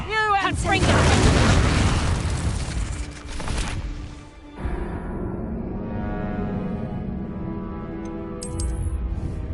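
Confringo blasting spells exploding in a video game, loud crackling booms with a long rumbling decay, while a voice shouts over the blasts.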